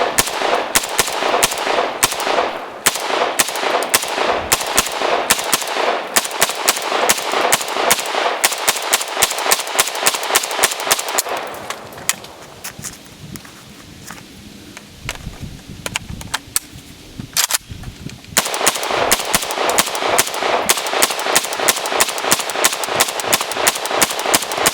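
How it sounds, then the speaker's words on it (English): An AK-74 rifle firing 180 rounds from 30-round magazines in rapid, continuous bursts of loud, close gunshots. A brief lull with mechanical handling noise falls in the middle before sustained firing resumes. "We're going to be firing 180 rounds, that's 6 30-round mags through this AK-74"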